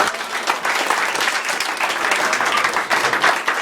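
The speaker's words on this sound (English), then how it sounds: "Clap your hand for God." A church congregation claps steadily and densely through a sermon service, a sustained wash of many hands close by, with faint voices mixed underneath.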